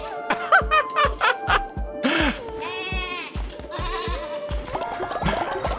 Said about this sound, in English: You baa if you press R3.